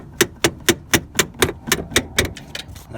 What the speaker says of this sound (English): Get it off there with a hammer.